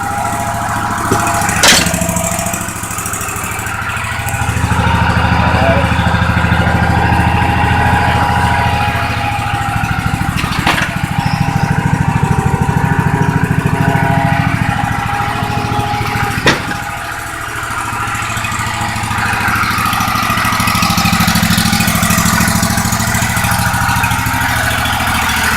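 Air-cooled engine of a newly purchased lawn mower idling, a loud, steady close-up drone that runs nearly the whole time, rising slightly at moments, with a few sharp clicks or knocks and no voice.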